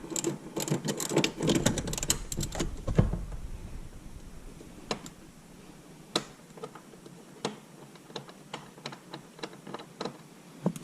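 Tools clatter and ratchet while seat bolts are taken out of a Dodge Challenger 1320, with a dense burst of rapid metallic clicks early on, then sparser sharp ticks and taps spaced through the rest.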